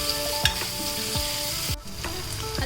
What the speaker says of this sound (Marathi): नंतर टाका थोडं कांदा. याला पण चांगलं परतून घ्यायची.